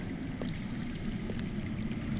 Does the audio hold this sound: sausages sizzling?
no